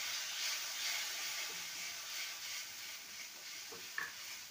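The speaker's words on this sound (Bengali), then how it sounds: "এবার সমস্ত কিছু ভালো মতো কষিয়ে নেব।" Spices with green chillies are sautéed in a pan for egg ghugni, a soft continuous sizzle broken by a few light stirring scrapes near the end.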